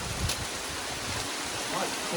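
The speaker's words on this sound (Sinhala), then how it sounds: "මාර වැස්සක් තියෙන්නේ වහිනවා කියන්නේ සුපිරි වැස්සක් වහින්නේ" Heavy rain falls on a mountain in Matale, a dense continuous hiss of downpour heard close and loud throughout.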